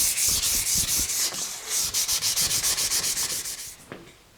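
Close, steady rubbing of 1000-grit sandpaper over a painted metal machine surface on a 1918 Jas. Clark Jr. friction drive drill press, in quick back-and-forth strokes that ease off near the end.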